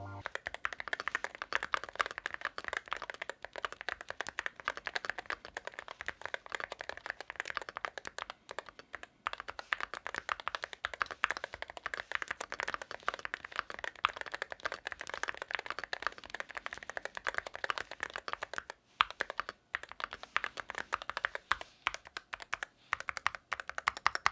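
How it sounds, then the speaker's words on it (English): Fast, continuous clacking of keys on a Boog75 mechanical keyboard, close and crisp with brief pauses, steady rapid typing rhythm throughout. "you will get the best sound of the keyboard"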